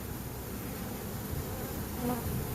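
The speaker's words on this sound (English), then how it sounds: "these bees are moving in and behind, moving to the back" A swarm of honey bees buzzes steadily and densely during a swarm capture, a continuous loud drone with no voices.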